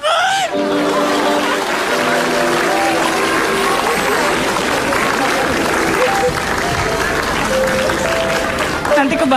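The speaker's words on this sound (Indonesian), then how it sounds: "Tepuk tangan." A crowd of audience members claps in loud, sustained applause that fills the room, with voices and some laughter mixed in throughout.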